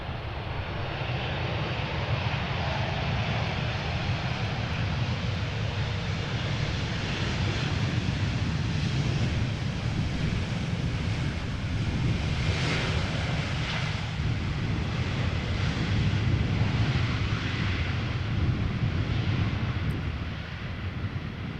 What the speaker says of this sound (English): This is A320 arriving from London Heathrow.